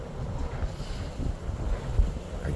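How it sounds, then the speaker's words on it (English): Gusty wind buffeting a microphone, low rumbling rushes rising and falling continuously, no voices. "God, it's windy."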